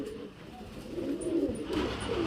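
A male high-flyer pigeon coos softly in low, rolling phrases, close by, with faint background noise.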